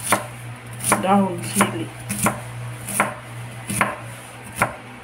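A knife slicing chili leaves on a board, about nine crisp, evenly spaced chops close by, with a brief spoken phrase between cuts.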